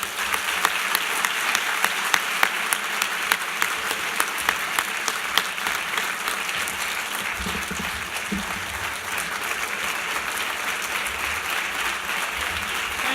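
A large audience at Governor Ted Strickland's keynote address bursts into sustained, dense applause that fills the hall evenly throughout, with a few louder claps standing out near the start.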